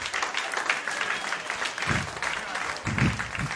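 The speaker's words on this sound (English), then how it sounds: "Thank you for the applaud." Audience applause at a magic show breaks out in short bursts, moderately close, mixed with a voice speaking over it.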